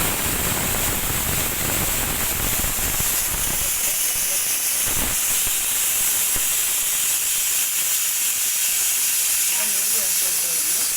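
A pressure cooker used for ghee rice releases steam in a loud, continuous hiss that stays close and dominant for the whole stretch, with faint background sounds underneath.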